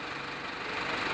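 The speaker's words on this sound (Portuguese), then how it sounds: "Desliga esse motor, moço, pelo amor de Deus." A truck engine idles steadily nearby on a residential street in a private condominium area, a continuous low rumble with a faint knocking vibration throughout, no one speaking.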